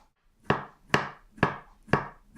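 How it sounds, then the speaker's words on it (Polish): A knife slicing vegetables into rounds on a wooden board: four sharp, evenly spaced chops about half a second apart, close and clear, with brief decays between strokes and no talk. "Ja warzywka będę kroiła w plasterki."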